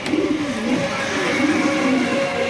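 A pair of red Danish pigeons coo nearby in rolling, wavering calls that continue steadily over a low background hum.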